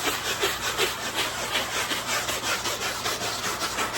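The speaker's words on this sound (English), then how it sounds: "go through and just kind of start scrubbing it a little bit" Scrubbing the interior seat of a Toyota Tacoma with a hand tool in circular motions, a close, steady rhythmic rasping that keeps pulsing for the whole stretch.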